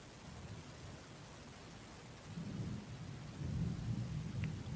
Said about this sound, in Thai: ฝนจะตกอยู่เรื่อยจ้าช่วง เนี้ย